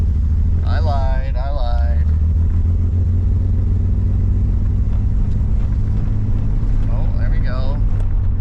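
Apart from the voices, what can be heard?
engine running and clearing up above 2,000 RPM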